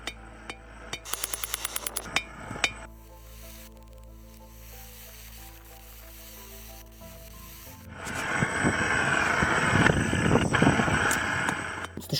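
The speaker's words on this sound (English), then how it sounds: "the shank is drawn out and flattened down until it's as thin as you want your drill bit blade to be." Hammer blows flattening the heated shank of a twist drill bit during forging, with a quick run of sharp metallic strikes early on, a quieter pause, then a long louder stretch of clanging and scraping workshop noise.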